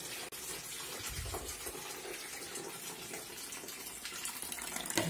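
Water pouring through a funnel into the dirty windscreen washer reservoir of an Opel Vectra C, a steady close splashing gush running throughout with no talk.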